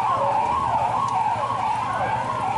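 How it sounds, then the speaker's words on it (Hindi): Police car siren wailing in a rising and falling sweep, loud and close, repeating steadily over a low engine rumble with no voices. "पुलिस की गाड़ी से निकलने वाले सायरन की आवाज सुनकर बड़े बड़े अपराधियों के होश उड़ जाते"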